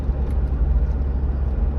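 A 5.0-liter V8 Mercedes-Benz W463 G-Class cruises along with a steady, dense low rumble of engine and road noise heard from inside the cabin.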